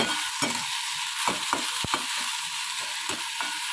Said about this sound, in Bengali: উচ্ছেটা একটু ভাজা হোক, তারপরে দেবো